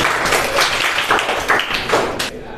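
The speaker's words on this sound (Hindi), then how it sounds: "जाइए इनके ताली बजाइए।" A fourth-grade class claps for a student at the teacher's request, a short burst of brisk, fairly loud hand claps from several children close by, tapering off at the end.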